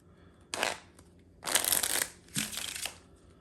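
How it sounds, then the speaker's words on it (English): A deck of cards is riffled three times, quick papery fluttering bursts close by with brief pauses between them. "Give the deck a few shuffles."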